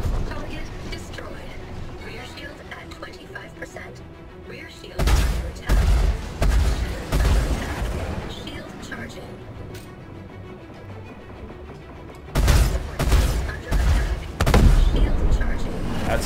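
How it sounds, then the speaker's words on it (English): Heavy guns on a Freelancer ship firing in Star Citizen's Vanduul Swarm mode, heard as two clusters of loud, booming rapid shots over a steady hum of space-combat ambience. "Those are some heavy firing guns"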